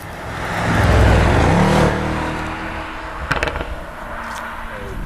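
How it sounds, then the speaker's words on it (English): A sports wagon's engine revs hard with a loud exhaust roar that swells and fades, followed by a quick burst of sharp crackles and pops from the exhaust. "that engine is just egging you on with that loud exhaust and those cracks and pops"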